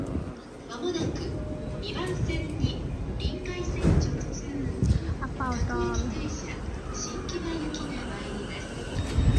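A train pulls into a station in Japan with rumbling, clattering wheels and brief squeals, heard close amid platform noise and talking.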